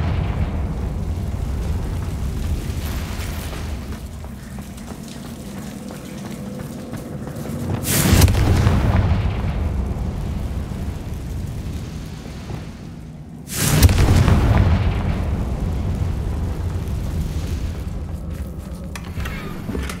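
Confringo fire spell explosions in the video game Hogwarts Legacy: two loud booming blasts several seconds apart, each with a deep rumbling decay, over a continuous low ambient rumble.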